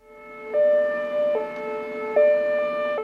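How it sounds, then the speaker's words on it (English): Air base warning siren sounding for an incoming mortar attack at Balad Air Base in Iraq, a loud steady wailing tone rising and dipping in repeated cycles, heard alone. "Sirens warn of an incoming mortar attack."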